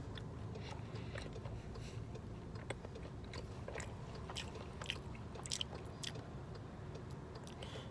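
Close, faint chewing and biting of a tough, chewy 7-Eleven junk food snack, with soft irregular crunches and mouth sounds repeating throughout against a quiet room.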